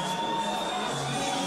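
Crowd at an amateur boxing event cheering in a steady, dense roar with shouts and whoops, continuous and fairly loud throughout, with no clear speech over it.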